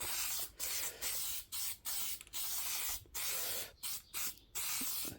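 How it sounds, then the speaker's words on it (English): A Plasti Dip aerosol can hisses in a series of short and longer bursts onto an Acura TL, about ten sprays separated by brief pauses, close and fairly quiet. "I got the plastidip, shake it up for like a minute or so. Test spray it right here."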